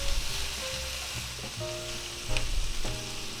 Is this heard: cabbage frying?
yes